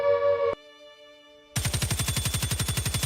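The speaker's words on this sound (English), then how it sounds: "Gunfire in the morning." Rapid automatic gunfire from a video game, a loud steady stream of evenly spaced shots, coming in after a brief tonal sound and a moment of quiet.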